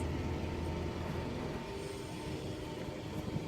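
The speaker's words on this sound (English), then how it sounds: "465025 is coming in to couple up to 466026 and 465153 to form a service to London Charing Cross" A Class 465 electric multiple unit pulls into Gillingham station to couple with two other units. Its steady low rumble of wheels and motors runs throughout at moderate distance, with a faint squeal near the end.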